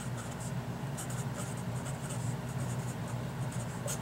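Chalk or marker writing on a board during a college algebra lecture, a soft steady scratching with faint rhythmic strokes over a low room hum, no talking.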